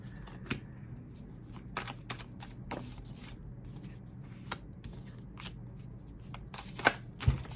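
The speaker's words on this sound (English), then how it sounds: "And I shuffled and shuffled and shuffled." Tarot cards are shuffled repeatedly up close, a series of quick riffling bursts with soft taps in between and a couple of sharper knocks near the end.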